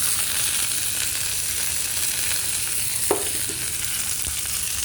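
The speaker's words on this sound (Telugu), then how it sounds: "ఆమ్చూర్ పప్పుకి పోపు వెళ్తుంది. అది పచ్చిమిరపకాయలు, కరివేపాకు." Green chillies and curry leaves sizzle in hot oil as a tempering for amchur dal, a steady close frying hiss that runs throughout with one brief utensil clink near the end.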